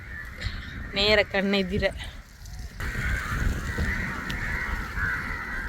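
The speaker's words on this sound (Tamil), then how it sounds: "அந்த இடத்துல எவ்வளோ காக்கா இருக்குன்னு பாருங்க" Crows caw outdoors in the evening, a flock calling at a distance with harsh repeated cries, while someone talks close by over the birds.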